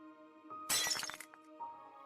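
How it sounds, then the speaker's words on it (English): A glass mirror shattering in a video game, one sudden bright crash of breaking glass with scattered tinkling shards, set against a quiet, sparse musical background. "The sound of fracturing glass splits the room"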